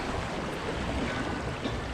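The Mississippi River rushes past, a broad, steady roar of churning water close by with wind buffeting throughout.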